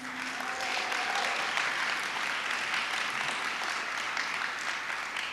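Steady applause from an event audience honoring civic leaders at an immigrant leadership awards show, a dense, even wash of clapping that holds at a constant level throughout.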